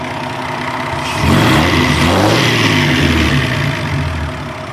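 A car engine fitted with a ProTunerz intake and factory EFI runs at a steady, smooth idle close by, with a slight swell in rumble partway through and no talking.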